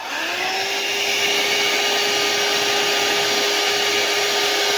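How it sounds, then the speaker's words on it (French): A hair dryer heating a car door panel blows steadily and loudly, a constant whirring hum with a high airy whine that holds without a break. "on prend tout simplement le sèche-cheveux de madame"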